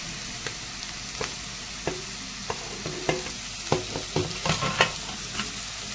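Carrot, potato and beetroot fry with onions in a pan, giving a constant sizzle with repeated spatula scrapes and knocks that grow busier toward the end.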